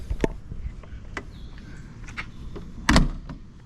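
A 1965 Volvo 544 has its door shut with one solid thunk near the end, after several lighter clicks and knocks from the body and latch, all heard close up.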